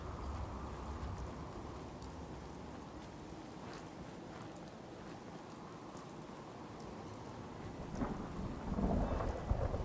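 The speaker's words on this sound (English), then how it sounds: "we slept out in the rain" Rain falls steadily in the Fallout 4 video game while thunder rumbles low and distant. The soft, continuous downpour swells a little louder near the end, with no talking.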